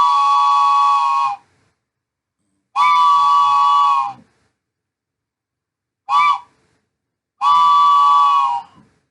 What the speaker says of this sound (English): the signal that's a warning to vehicles and pedestrians when they're approaching a grade crossing